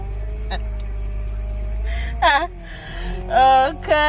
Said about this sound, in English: Cut the embarrassing car noises,